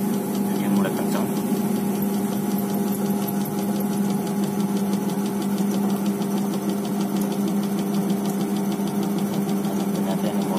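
A Polytron single-tub washing machine's spin dryer whirls at full speed, producing a steady mechanical drone with a strong constant hum throughout, while a voice speaks over it.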